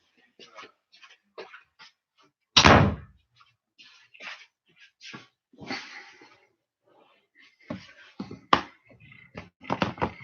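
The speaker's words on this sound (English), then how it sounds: "I got to close the door because you guys are not going to be able to hear me" An indoor door is pushed shut with one solid, loud thud, surrounded by soft breathy sounds and light rustling in a quiet room.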